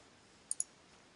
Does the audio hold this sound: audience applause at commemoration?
no